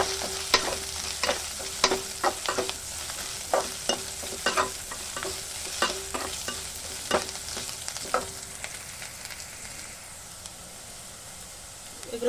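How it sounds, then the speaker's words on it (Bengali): Chopped garlic and crushed ginger fry in a pan, a steady sizzle broken by repeated scraping stir strokes that fade toward the end, with the frying left alone. "সাথে দিয়ে দেবো কেটে রাখা রসুন আর ক্রাশ করা আদা। এগুলো খুব ভালো করে ভেজে নেব।"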